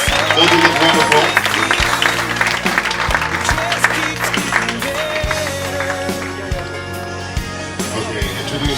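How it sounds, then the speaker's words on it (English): Applause from wedding guests as the bridal party is introduced, clapping blended under loud music with a steady beat that dominates the mix, the crowd noise sitting in the background. "Let's give them a big round of applause."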